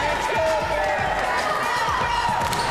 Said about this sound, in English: Excellent crowd, community members, police, fire, sheriff, other county employees cheering our ladies on.